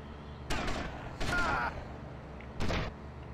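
Gunfire in the video game GTA Vice City comes in three sharp, close bursts of shots separated by short pauses.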